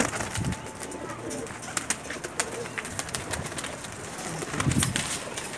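Zeere Teddy pigeons in a loft coo softly against steady background noise, with light fluttering and scattered clicks and no talk.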